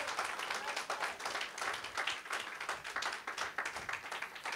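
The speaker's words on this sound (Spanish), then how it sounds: "¿Cuánto le damos aplauso al Señor?" Congregation applauding during a church service, a quiet but steady wash of many hands clapping with slightly pulsing rhythm, heard alone without speech.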